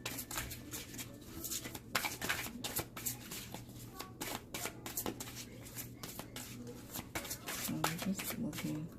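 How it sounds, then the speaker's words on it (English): A gold-gilded oracle card deck being shuffled by hand, with repeated rapid riffling and soft flapping bursts close up, fairly quiet, a voice speaking intermittently over it. "Just looking, just showing you how it's shuffled."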